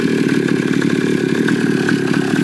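A pocket bike's high-performance engine with dual exhaust runs loud and close, a steady buzzing drone with a rapid rattling pulse throughout.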